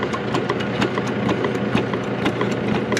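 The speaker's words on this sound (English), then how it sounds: "I've got the power pack in there again now" A hydraulic power pack runs steadily close by, a constant mid-pitched motor drone with faint regular clicks, used to push a crease out of a bent new trailer in a workshop.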